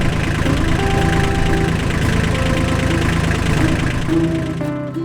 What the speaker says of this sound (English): now I'll use the tractor to tow the trailer